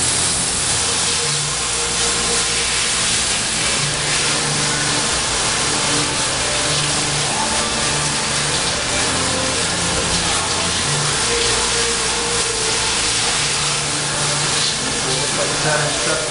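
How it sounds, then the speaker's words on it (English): An airbrush sprays paint to touch up a missed spot on a part, producing a loud, continuous airy hiss that stays steady and close from start to finish. "I'll take my airbrush, I'll touch that up"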